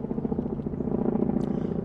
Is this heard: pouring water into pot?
no